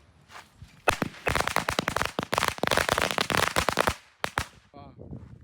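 A long string of firecrackers pops in a rapid, loud, crackling burst at a Sivakasi fireworks factory, lasting several seconds before it tails off, with people talking nearby.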